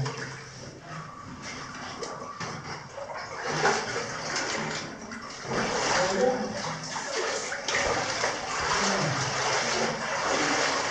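Cold water splashes and sloshes continuously as people wade through Onesquethaw cave, echoing, with people speaking over it, the splashing swelling louder in the second half.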